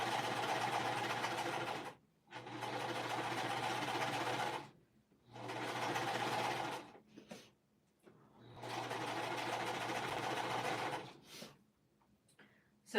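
A sewing machine stitches around the sleeve of a quilted sweatshirt in four steady runs of close, even whirring, separated by short pauses, with a faint voice in the background.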